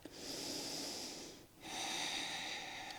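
A person takes a deep, slow breath while holding a hamstring stretch during a cool-down, a close, airy inhale and exhale with a brief pause between them, heard alone without talk.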